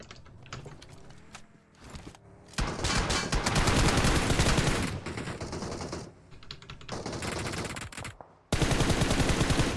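Gunfire in a fight on a bridge in PUBG Mobile, with rapid automatic bursts and loud clustered shots that come in dense waves, drop off briefly, then resume close and heavy.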